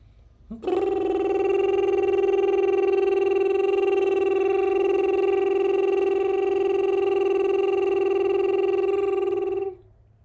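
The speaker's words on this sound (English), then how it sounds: "let's take a high note in our range and try the lip trill" A sustained vocal lip trill held steadily on a single high note for about nine seconds, rich in harmonics and loud and close, starting abruptly and cutting off cleanly, with no other voices or sounds.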